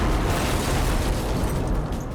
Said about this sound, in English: The blast wave rushes out from the explosion, pushing everything out of its path.